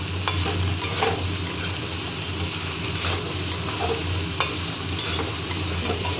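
Pieces of ash gourd sizzle and fry in a pan, cooked without added water, while a utensil stirs and scrapes through them, giving a steady close hiss with occasional clinks and no talk.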